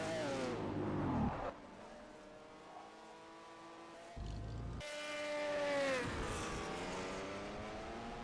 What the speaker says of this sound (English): Oh, the V6 sounds here tonight too, Weaver.